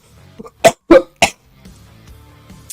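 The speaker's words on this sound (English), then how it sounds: "sorry, I'm still like coughing" Several sharp coughs in quick succession, close and loud, followed by quiet breathing and faint background noise.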